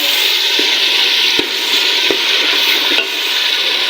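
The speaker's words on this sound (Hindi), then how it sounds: "इसको भी करते हैं थोड़ी देर के लिए फ्राई।" Ginger garlic paste frying with onions, tomatoes and green chilies in a pan, a steady loud sizzle with a few sharp clinks of a stirring spoon against the pot.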